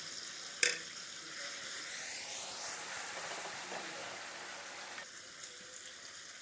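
Ground chili, cumin and cashew paste dropped into a hot pan of cooked-down tomato for a ginger catfish curry, with a sharp clink at first, then a continuous close sizzle and hiss that eases near the end, with no talking.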